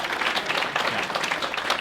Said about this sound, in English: I'd like everyone to give a round of applause for you.